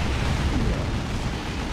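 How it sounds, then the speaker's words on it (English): A grenade goes off in the real-time strategy game Dawn of War 2 during a 3v3 battle, giving a sustained, rumbling, low explosion roar that stays loud and steady throughout with no clear voices. "Grenade."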